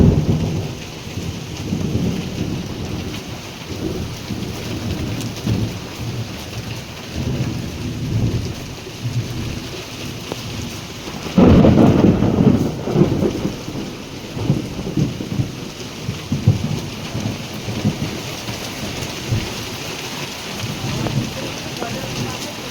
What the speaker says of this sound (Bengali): বাইরে ভীষণ বজ্রপাত,